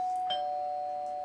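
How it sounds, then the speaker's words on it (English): A doorbell chimes once in a home during cleaning, a clear steady electronic tone that rings on and slowly fades, heard alone and close. "That's the doorbell."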